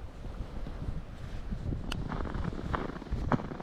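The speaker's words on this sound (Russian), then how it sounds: "Очень сегодня сильный ветер." Strong wind roars steadily across a frozen lake during a winter pike-fishing outing with tip-ups in Latvia, a broad low rumble of gusts buffeting the microphone with a few faint knocks, and no talk.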